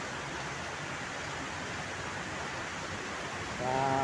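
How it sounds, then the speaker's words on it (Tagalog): Water pours heavily from beneath a highway bridge, a steady, dense rushing hiss that stays constant and fairly loud, with a brief tonal sound at the very end. "Ayan, malakas po ang tulo."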